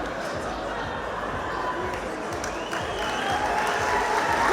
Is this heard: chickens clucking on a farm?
no